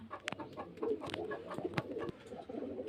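Pure desi Giribaz pigeons from Murshidabad at a pigeon seller's loft, with soft cooing and scattered sharp clicks and flutters close by, sometimes overlapping.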